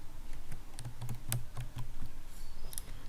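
Keys clack in an irregular run of soft, close taps on a computer keyboard while text is typed into a presentation slide, heard alone with no talking.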